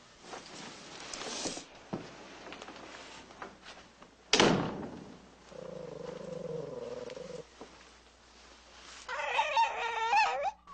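A dog barks in an office in a 1970s TV drama, a few sharp barks with a door slam and other room noises around them.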